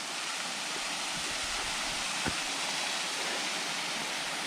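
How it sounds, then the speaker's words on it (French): A waterfall hidden in a forest in the Vosges roars as a continuous broadband rush of falling water, steady and fairly loud, with one brief thump partway through. "cet endroit là-bas cache une cascade que vous voyez et une vierge"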